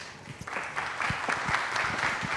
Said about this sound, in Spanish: Un aplauso más fuerte para don José Miguel Puccio